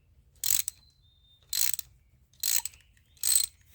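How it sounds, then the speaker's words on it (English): A ratchet tool threading a bolt back into a Willys F134 F-head Hurricane engine while a new thermostat is installed, heard as four short, crisp clicking bursts, close and evenly spaced with quiet pauses between. "So now I'm going to gently thread it back in to try to loosen up any debris that's in the threads."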